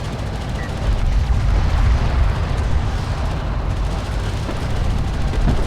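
Homeworld: Deserts of Kharak strike craft under heavy gunfire, heard as a dense, continuous roar of weapons fire and impacts that stays loud and unbroken throughout.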